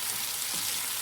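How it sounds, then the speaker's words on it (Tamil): Cubed brinjal sizzles steadily in hot oil as it sautés for a stir-fry, a continuous close frying hiss with no talk. "இப்போ கத்திரிக்காய் சேர்த்துட்டு நல்லா வந்து எண்ணெயிலே வந்து வதக்கி விட்டுக்குவோம்."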